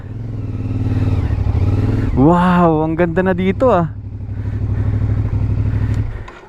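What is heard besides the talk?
motorcycle climbing a steep road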